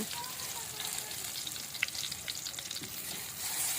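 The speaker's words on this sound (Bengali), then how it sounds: "সেজন্য একে একে বেগুনগুলো এভাবে তেলের মধ্যে ছেড়ে দিব।" Eggplant slices frying in hot oil in a pan, a steady dense sizzle with a brief sharper crackle partway through.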